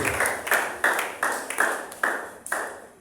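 A church congregation claps in a steady rhythm, about seven sharp, loud claps spaced roughly half a second apart, filling the room with a bright reverberant tone.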